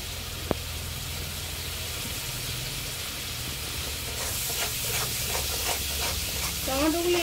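Tomatoes fry in a pan with turmeric powder and salt, a steady close sizzle with hissing steam and stirring scrapes growing busier toward the end, while a voice speaks quietly.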